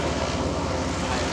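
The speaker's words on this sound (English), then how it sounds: "Climb out and that's just the aft engine" The Goodyear blimp Wingfoot One's aft engine drones steadily during climb out, a loud, continuous propeller hum and rumble heard from close aboard, with no talking.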